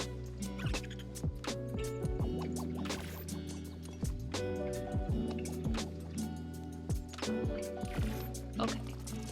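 A character in the video game ARK Survival Ascended drinks water, producing repeated gulping, splashing liquid sounds in a steady rhythm over a constant low game ambience and music.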